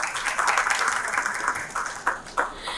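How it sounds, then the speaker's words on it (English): Applause at an Acerpure AC launch event, a crowd clapping in a moderate, uneven patter with a few louder claps toward the end. "Can we have a huge round of applause for all of you?"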